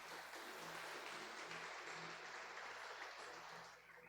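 A church congregation applauds after a prayer, a steady, fairly quiet wash of clapping that holds evenly and then tapers off near the end.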